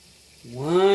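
Lemon-lime soda is poured into a one-cup measuring cup, a short fizzy splash that starts abruptly halfway through and rises to a bright, hissing stream close by.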